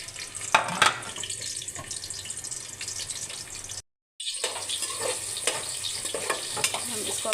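Chopped onions frying in ghee in a pan for chicken macaroni, a steady close sizzle with occasional stirring scrapes, briefly cut to silence midway before the crackle resumes.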